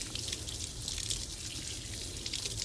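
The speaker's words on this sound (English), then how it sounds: "And I'm just rinsing with tap water." Sea moss is rinsed under running tap water, a steady faint splashing hiss with small irregular drips and spatters, heard alone at close range.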